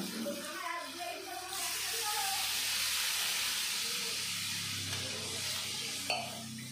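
Water poured into a hot pan of cauliflower and potato curry, Bengali niramish phulkopir dalna, sets off a loud, close, steamy hiss that swells after a brief pause, holds steady for several seconds, then eases off.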